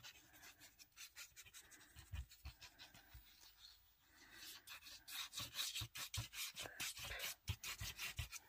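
Paper being rubbed down by hand while glued flat: faint, close, dry scratchy strokes in irregular bursts, pausing briefly before quickening into a denser run of rasping rubs.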